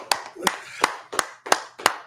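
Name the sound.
audience clapping hands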